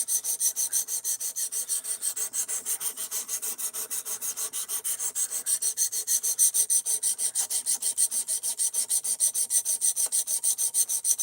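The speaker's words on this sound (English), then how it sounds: "the first time I've ever sharpened a knife" A blade is drawn over a sharpening stone in a steady, rapid rhythm of rasping strokes, close and even for the whole stretch, with no voices. The knife is an Ozark Trail Axis Lock D2.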